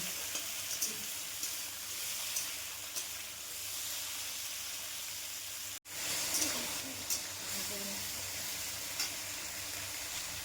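Cauliflower, carrots and beans fry in a pan with a steady close sizzle, broken by occasional stirring clinks and a brief drop in sound partway through.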